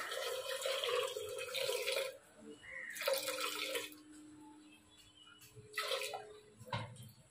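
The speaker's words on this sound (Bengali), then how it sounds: "এরপর একটু জল দিয়ে দেবো।" Water pours in bursts into a cooking pot of peas and potatoes being made into ghugni, three splashy pours separated by short pauses and ending with a brief drip.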